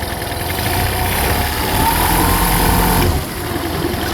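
An older Honda single-carburetor outboard engine idles steadily and loudly up close, a continuous droning hum that drops slightly near the end.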